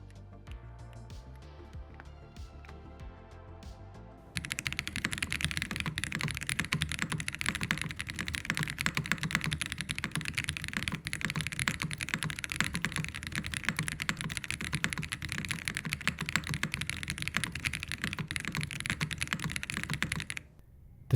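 Typing on an Aeroboard70 gasket-mount mechanical keyboard fitted with DCX Hyperfuse keycaps: a few scattered keypresses, then a long, dense, steady stream of fast clacky keystrokes, close and alone.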